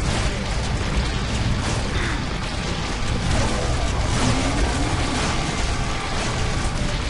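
Dense, relentless gunfire and explosions from the video game Serious Sam 3 BFE during a boss fight, a loud continuous barrage of booms and bursts with no pauses and no talking.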